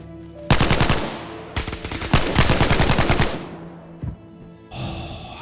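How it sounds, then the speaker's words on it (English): Rapid automatic gunfire bursts in the survival video game DayZ, loud and close, two long strings of shots with a brief pause between them, then a quieter rumble at the end. "Someone's shooting at me."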